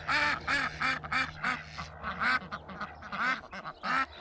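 A flock of ducks quacking repeatedly in rapid, overlapping bursts near a farm dam, close and fairly loud, with a low steady hum underneath.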